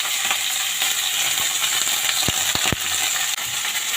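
Fish fries in a pan in a home kitchen, a steady close hiss of sizzling oil punctuated by a few sharp clicks and taps of utensils.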